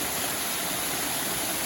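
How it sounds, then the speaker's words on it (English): A fast-running waterfall or water chute at Timbersbrook in Cheshire, a steady broadband rushing roar, close and continuous with no voices. "And the second waterfall,"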